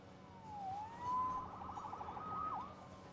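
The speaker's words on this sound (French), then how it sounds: "Sauvé par les sirènes." Distant emergency sirens wail and whoop through a city in the Spider-Man PS4 video game, rising and falling in a couple of sweeping cycles over a faint background hum.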